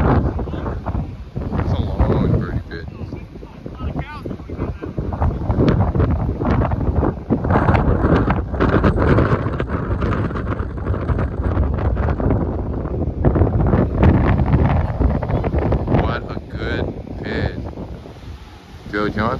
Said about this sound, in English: Boy, is it windy.